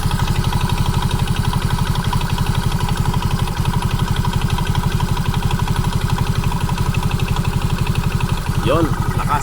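A Yamaha Mio 125 scooter engine with a DIY oil cooler idles close by in a steady, rapid rhythmic putter that holds even throughout, with a brief voice near the end.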